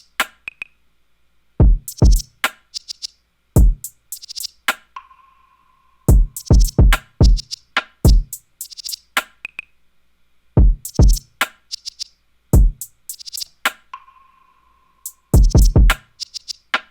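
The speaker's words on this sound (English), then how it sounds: "So altogether the drums are going to sound like this." A punchy hip-hop drum beat with deep kick drum hits and crisp rim shots plays loud and up front, a bouncy pattern with lots of space between hits and faint tonal blips, and no voice.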